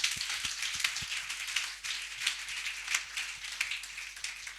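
A church congregation applauds during a worship service. The clapping is dense, continuous and moderately loud, like a patter of many hands, with no voice over it.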